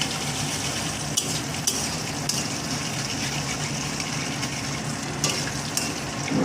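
Whole spices and asafoetida (hing) frying in hot oil make a steady, dense sizzle with occasional sharp taps as they are stirred in the pan.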